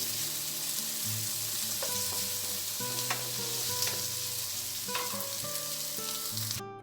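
Carrots fry in a pan for a vegan curry, giving a loud steady sizzle under repeated metallic clinks and scrapes of stirring, with faint background music.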